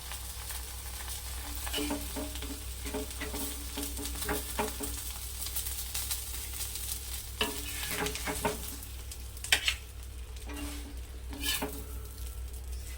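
Fish sizzles steadily in a hot pan for a banana leaf fish fry, a continuous crackling hiss broken by occasional clinks and scraping of a utensil against the pan.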